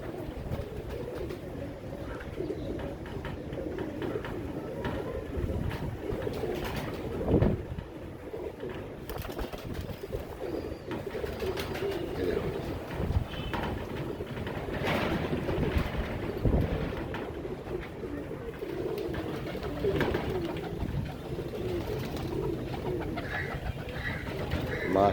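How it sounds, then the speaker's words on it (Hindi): Royal Teddy pigeons, ringed birds kept by a fancier, coo softly amid steady wind buffeting the microphone and someone talking over them. "सारे ये ओरिजिनल कबूतर है, देखो रॉयल टेडी है"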